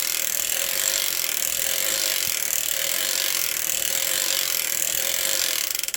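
A circular sock knitting machine with a 48-stitch cylinder is cranked with DK weight yarn, producing a continuous rhythmic ratcheting clatter that rises and falls with each turn, close and steady before stopping at the end.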